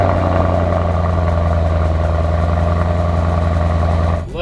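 A Lamborghini LM002 truck engine idles with a steady, deep, close rumble and strong low harmonics, holding evenly before dropping off with a brief swell near the end.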